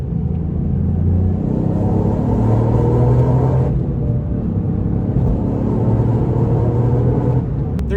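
A Toyota GR Yaris drives along a twisty road, its engine a steady loud rumble from inside the car that swells and eases with the throttle, with no talk over it.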